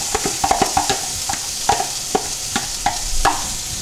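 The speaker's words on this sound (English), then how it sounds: "I'm going to let those saute just a little bit. I want them translucent. I want to coat them in the fat." Onions sautéing in the fat of a pale flour roux for a bisque: a continuous close sizzle broken by repeated sharp clicks and scrapes of stirring.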